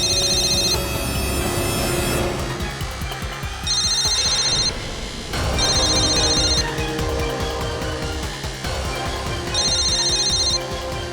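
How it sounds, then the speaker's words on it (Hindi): A mobile phone ringtone plays in a courtroom, its melodic electronic tune repeating in loud regular phrases over continuous background music. "तो वो फोन इसी कमरे में बजेगा।"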